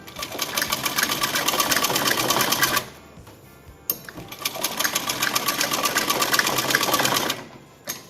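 An Usha sewing machine stitches a yoke frock. It runs in two fast, buzzing bursts, each a few seconds long, with a brief pause and a click between them, close and loud.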